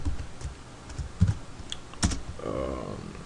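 Login ID and password keyed in on a computer keyboard, a short burst of close clicking keystrokes with a louder tap near the middle, heard alone without speech.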